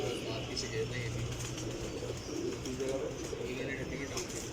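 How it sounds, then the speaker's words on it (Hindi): Breeder pigeons kept in a loft coo in soft, repeated low murmurs, with faint chirps above, while people talk steadily over them nearby. "ये डॉक्टर साहब ने ब्रीडर कबूतर रखे हैं बड़े अच्छे"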